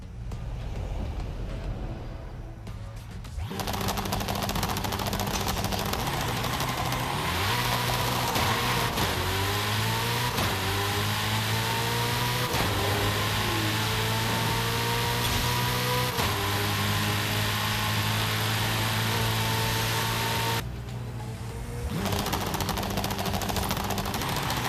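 Hennessy Venom F5 hypercar in Forza Horizon 5, its engine revving hard and climbing through rising gear pulls with a brief dip between shifts, loud and close, starting after a short quiet lead-in and cutting back near the end.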